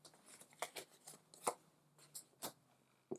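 Playing cards are shuffled in quick, soft riffling bursts, several brief crisp flurries close by and quiet, during a solo tabletop card game.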